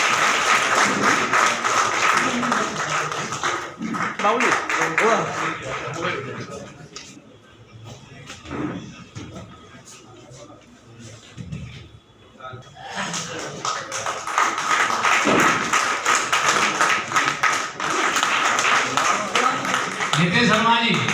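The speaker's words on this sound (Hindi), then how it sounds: "तालियां बजती रहनी चाहिए सब।" An audience claps at an Advocates' Day ceremony held by the Advocate Association of Agra at the Youth Hostel in Agra, with loud sustained applause that thins out in the middle while a voice speaks, then surges back strongly.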